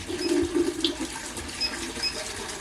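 Sparge water poured into a beer mash, a steady splashing trickle that runs the whole time at close range, with no voices over it.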